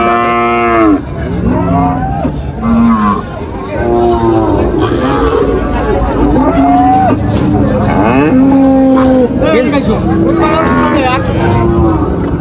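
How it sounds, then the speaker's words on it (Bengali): Cattle lowing repeatedly at the Tepakhola cattle market in Faridpur: several loud, drawn-out moos from cows close by, overlapping one another above a steady murmur of crowd voices. "দেখেন কত সুন্দর সুন্দর গাভী গরু রাখা আছে এখানে"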